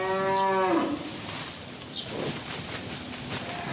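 Cattle at an Indonesian beef feedlot give one loud, close moo lasting about a second, followed by faint farmyard ambience and soft rustling.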